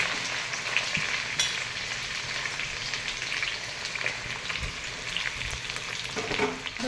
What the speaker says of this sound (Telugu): ఇప్పుడు కట్ చేసి పెట్టుకున్న ఉల్లిపాయలను కూడా వేసుకోవాలి. పచ్చిమిర్చి, అల్లం,